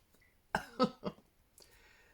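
A man coughs three times in quick succession, fairly close, followed by quiet background rumble and a faint mechanical hum from a washing machine.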